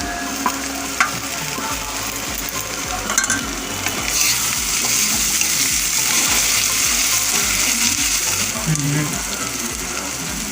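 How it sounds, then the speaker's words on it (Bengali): Onion, asafoetida and ginger fry in a pan while a chicken dish is being made, giving a loud continuous sizzle with rhythmic scraping and stirring strokes close by. "পেঁয়াজটাকে আমি লাল লাল করে ভেজে নেব। একটু আমি হিং দেবো। এবার আমি আদাটা দিয়ে দেবো,"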